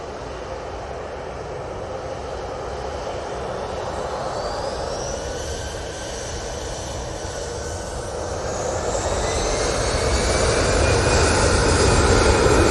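An Airbus A320 jet airliner arrives at Manchester Airport with a steady, rising engine roar that grows louder as it nears, broad and continuous throughout.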